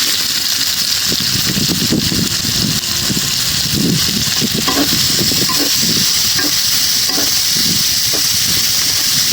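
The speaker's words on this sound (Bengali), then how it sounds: "এই চিংড়ি মাছ ভাজার তেলে দিয়ে দিলাম পেঁয়াজ" Onion dropped into hot oil left from frying shrimp, a loud dense steady sizzle with rough scraping stirs underneath, very close.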